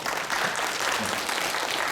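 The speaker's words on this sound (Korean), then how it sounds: "박수." A church congregation claps steadily for about two seconds to welcome the pastor to the pulpit during a Sunday worship service. The dense, even applause fills the room.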